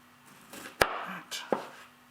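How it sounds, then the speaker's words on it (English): A knife cutting tomatoes on a board: three sharp chops with brief slicing rustles between them, close and clear. "Just cut tomatoes, really."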